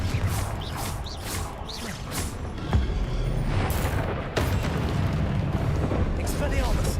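Confringo blasting spell explosions in the Hogwarts Legacy video game go off in several bursts with whooshing spell casts and rumbling booms, a voice shouting among the loud combat sounds.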